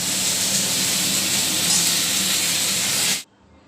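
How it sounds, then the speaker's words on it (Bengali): Meat curry bubbling in a pot, a steady broadband hiss and simmer that holds evenly for about three seconds, then cuts off abruptly. "মাংসর ঝোল ফুটছে তাই।"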